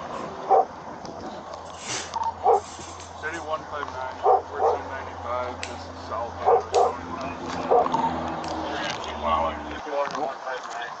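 A dog barks repeatedly in short bursts over a low engine hum, and people talk nearby in between the barks.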